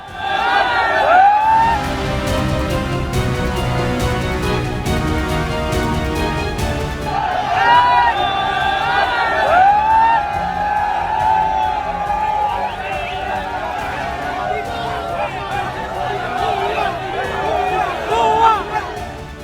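A large crowd of looters in Bangladesh roars and shouts continuously, with a voice talking over the din and a siren-like wail rising at intervals.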